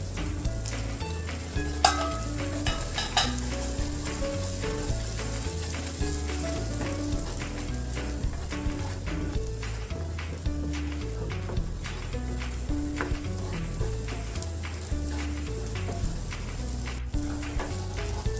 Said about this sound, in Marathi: आपला मसाला परतून झालेला आहे.